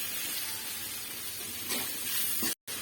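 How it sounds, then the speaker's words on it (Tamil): Chopped tomato sautéing in a pan with ginger garlic paste and green masala for Chettinad chicken gravy, giving a steady close hiss and sizzle that cuts out briefly near the end. "இப்போ கட் பண்ணி வச்சுருக்க ஒரு தக்காளியை அதில் போட்டு நல்லா வதக்கிடுவோம்"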